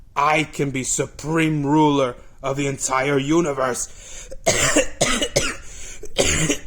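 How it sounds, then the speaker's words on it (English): Someone talks animatedly, and partway through a couple of sharp, harsh coughs break up his speech. "I cough, not sneeze"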